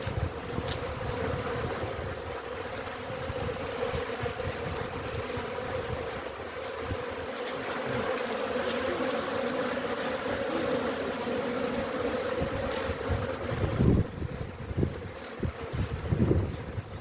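Honey bees swarm busily around the hives of an apiary in early spring, flying even in the shade, making a continuous low droning hum mixed with wind rumble throughout.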